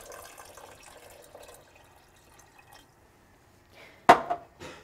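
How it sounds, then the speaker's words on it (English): A cup of water is poured into a curried lamb hotpot in a pot: a quiet hiss of cooking at first, then a short, sharp splash of liquid near the end. "And finally, your 1 cup of water."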